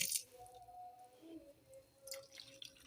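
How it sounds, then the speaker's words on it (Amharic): A little water is added to a cooking dish that is later topped with butter and honey, giving faint, close drips and small liquid splashes over a quiet kitchen background. "ውሃ ጨምር።"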